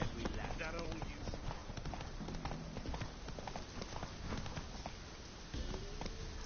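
Roach the horse galloping in The Witcher 3, a fast, steady clip-clop of hooves running throughout, moderately close, with a voice talking over it.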